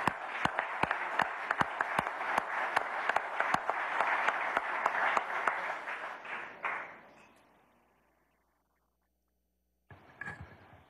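An audience in Venezuela applauds the arriving Prime Minister of Trinidad and Tobago, a dense roomful of clapping punctuated by sharp individual claps, dying away after about seven seconds into silence before a brief noisy burst returns.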